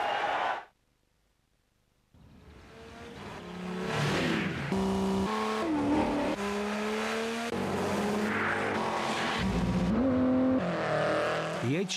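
A diesel Peugeot racing car engine roars and revs hard close by, with rising and falling gear pitch and tire noise, after a brief lull at the start.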